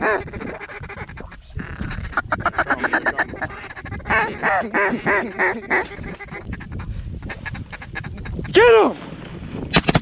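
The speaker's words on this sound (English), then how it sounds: "We can't have this many ducks in the air around us." Mallard ducks quacking while flying overhead during a snowstorm hunt, a rapid series of loud, close quacks in rhythmic bursts, with hunters shouting and talking between them.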